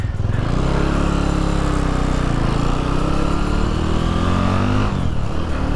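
A 1987 Honda GB250 Clubman single-cylinder motorcycle engine revs loudly up close, pitch rising and falling through steady throttle blips with no voices.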